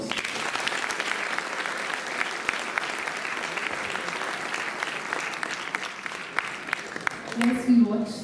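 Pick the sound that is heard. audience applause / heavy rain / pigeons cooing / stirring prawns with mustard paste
audience applause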